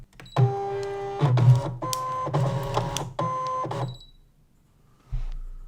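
A Brother ScanNCut cutting machine draws in a Cricut cutting mat, giving whirring motor runs with tonal mechanical hums and brief pauses, loud and close, ending with a short beep-like tone.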